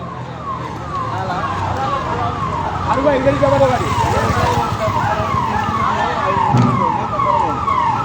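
A fire brigade vehicle's siren wails in repeated falling sweeps at a truck fire, moderately near and steady, with traffic rumble and some voices underneath.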